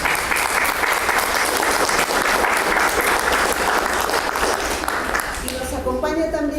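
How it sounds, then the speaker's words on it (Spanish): Sustained applause from a large audience at a literature round-table, steady and full throughout, with a voice starting to talk over it at the end. "Un aplauso, por favor."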